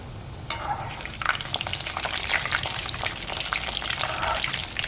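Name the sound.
rolls deep frying in hot oil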